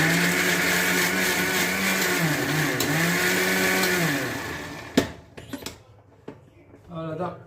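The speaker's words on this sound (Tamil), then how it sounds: "பாலக்கு வெங்காயம் போட்டு இந்த மிக்சியில் போட்டு நல்லா அரைச்சிக்கோங்க." A mixer grinder blends spinach and onion into paste, a loud whirring motor drone that wavers in pitch for about five seconds, then cuts off, followed by lid clatter, handling noises and a voice.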